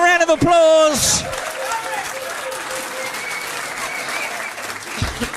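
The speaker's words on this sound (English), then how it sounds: "Give them a round of applause." After a short burst of speech, a pub quiz audience breaks into sustained applause, many hands clapping steadily at moderate distance for several seconds.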